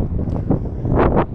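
Wind blowing at a beach, gusting buffets on the microphone that swell and fade in quick surges, close and fairly loud.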